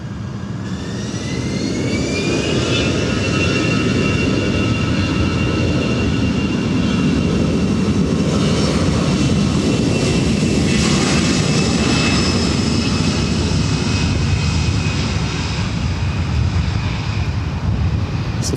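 A Delta jet airliner takes off from LAX runway 24 right, its engines building into a loud, sustained roar with a rising whine layered on top, continuous and close.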